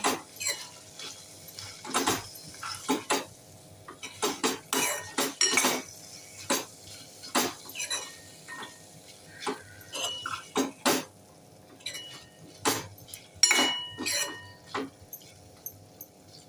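A spoon scrapes and clinks repeatedly against a pan while cashew nut curry with steamed potato is mixed, producing irregular close metallic knocks and scrapes over a quiet background with a faint sizzle. No one talks.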